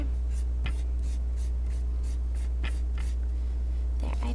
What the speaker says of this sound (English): I'm going to use a clean finger and pull that chalk down my picture